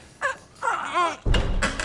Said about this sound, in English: Just push open these doors.